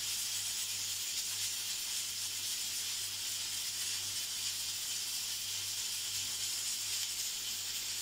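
A pressure cooker on the stove with lentil soup and boiling potatoes, its valve releasing a continuous loud, steady hiss of steam with a faint low hum beneath, no voices.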